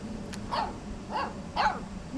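A puppy in the video game Life is Strange 2 barks three times in a steady rhythm, with short, sharp, yippy barks that are close and clear over soft ambient game sound.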